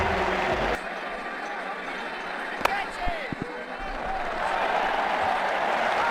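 During an IPL match between Mumbai Indians and Rajasthan Royals in Ashes Cricket 2009, a cricket crowd applauds and roars steadily, with a sharp crack and a few thuds standing out in the middle.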